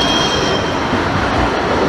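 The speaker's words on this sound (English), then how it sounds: "I'm going to start there with a couple of trams" A tram rolls along city street tracks amid traffic, producing a loud, continuous close-up rumble with faint high wheel squeal and no talking.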